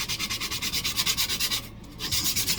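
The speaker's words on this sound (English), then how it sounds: "And I probably should give it a good sanding." Sandpaper rubbing over the surface of a carved pumpkin, a steady back-and-forth scratchy rasp in quick regular strokes, close and fairly loud, with a brief pause near the end before the strokes resume.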